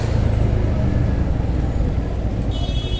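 Steady road traffic in a narrow lane, with a continuous close engine rumble and broadband road noise throughout, and a faint high-pitched tone entering near the end.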